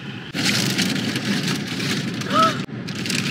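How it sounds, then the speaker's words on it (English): Steady rain pours down outdoors on a rainy family outing near Wallaman Falls in Australia. The hiss is dense and continuous, with a brief tonal chirp partway through. "What's this rain doing?"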